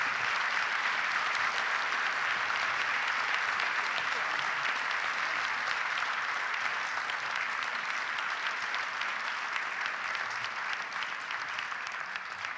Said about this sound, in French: Je vous demande d'applaudir, même si vous l'avez fait, mais encore une fois